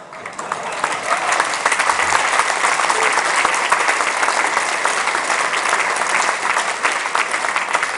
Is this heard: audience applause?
yes